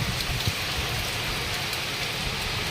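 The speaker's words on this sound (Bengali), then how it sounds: "এই যে বাইরে বৃষ্টি পড়ছে" Heavy rain pours steadily outside a dark house at night, a dense, continuous hiss with soft drumming on nearby surfaces and no voices.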